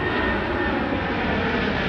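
A Virgin Atlantic airliner takes off at Heathrow, a loud continuous roar of jet engines filling the air without pause.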